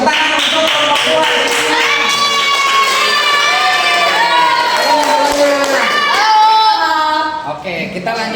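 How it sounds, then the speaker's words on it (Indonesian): In a classroom, students applaud a presenting group while loud voices cheer and shout over the clapping. The din stays dense and continuous for several seconds before easing off at the end. "tepuk tangan untuk kelompok 2"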